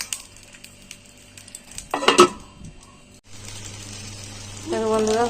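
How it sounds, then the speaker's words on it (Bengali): Bhetki fish pieces frying in hot oil in a frying pan, a steady sizzle with clattering pan and utensil knocks midway, then a louder crackling hiss toward the end. "এই যে এগুলো আমি ভেজে নেব।"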